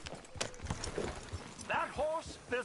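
Horse hooves clop at a walking pace in the video game Red Dead Redemption 2 while voices talk over them, with a few short spoken exchanges.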